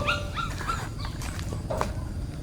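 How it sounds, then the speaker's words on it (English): A puppy whimpers in a rescue setting, giving several short high-pitched whines close by at first, then a couple of fainter whimpers later, all over a steady low background rumble. "noticing the puppy whimpering"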